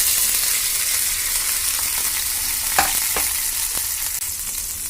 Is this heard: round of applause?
no